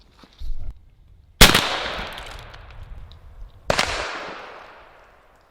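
Two loud 12 gauge shotgun blasts fired at a target 15 yards away outdoors, each a sharp crack followed by a long fading rumble, spaced about two seconds apart.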